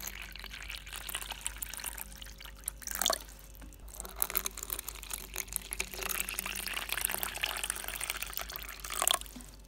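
Water trickles and drips into a tarantula's water dish, a soft, faint splashing that runs steadily with a couple of brief louder bursts, with no talk over it.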